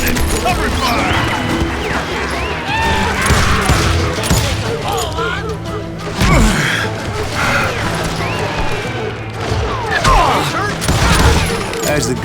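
Cover-fire gunshots in the Western shooter Call of Juarez: Gunslinger crack in dense volleys, overlapping with shouting voices and a busy, clattering battle din throughout.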